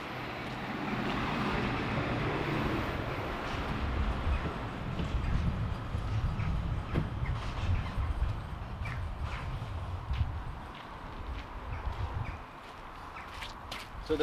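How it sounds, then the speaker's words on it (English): Rumbling engine noise of a big tractor passing nearby on the shore of Loch Tay, Scotland, swelling and then fading, with some wind and outdoor clatter. "Sorry about the noise, a big tractor coming."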